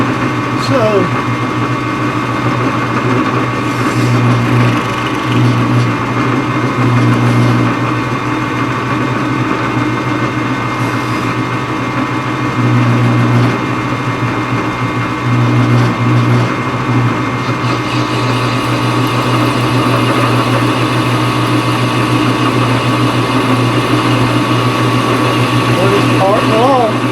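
Lathe facing and turning metal flange nuts, a steady motor hum with fluctuating cutting tones throughout, while someone talks over it.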